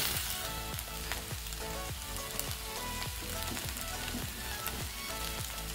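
Fried tangra fish is tossed into vegetables in a pan, producing a dense, continuous sizzle with repeated scraping and stirring strokes at a steady rhythm, close up and without speech.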